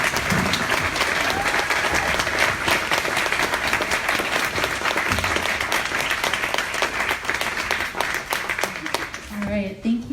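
Audience applause welcomes a speaker to the stage at an ACLU event. Steady, dense clapping fills the whole stretch, loud and continuous, with a few voices mixed in near the end.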